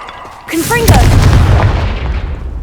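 A Confringo fire-blast spell cast in the Hogwarts Legacy video game: a loud booming explosion with a whooshing rise, rumbling on and slowly fading, heard alone without talk.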